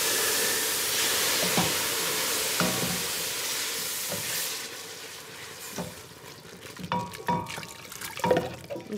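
Water poured into a hot pan of roasted curry spices, a broad hissing sizzle that fades into softer bubbling with scattered stirring clinks and scrapes, heard up close without talk.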